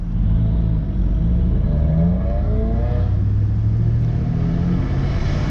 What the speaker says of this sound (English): A Subaru that thinks it's a race car.